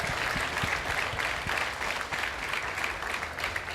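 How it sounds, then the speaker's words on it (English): A workshop audience at a sales masterclass gives a round of applause, dense close-up clapping that stays loud and steady for nearly four seconds with no voices over it. "let's give Tots a big round of applause"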